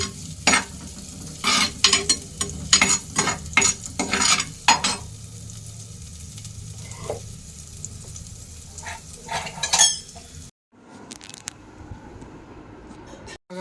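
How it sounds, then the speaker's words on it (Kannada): Onion and garlic frying as a tempering for chicken in a home kitchen pan, with repeated scraping stirs of a spoon over a low steady sizzle, then a quieter softer stretch near the end. "ಚಿಕನ್ ಒಗ್ಗರಣೆ ಹಾಕೋಕ್ಕೆ ಈರುಳ್ಳಿ ಮತ್ತು ಬೆಳ್ಳುಳ್ಳಿ ಹಾಕಿದ್ದೀನಿ ಒಗ್ಗರಣೆ"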